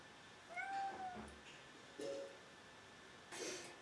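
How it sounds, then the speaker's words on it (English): A pet cat meows three times, a short rising call followed by two briefer ones, spaced about a second apart and heard close by in a quiet room. "my cat is totally attacking my leg"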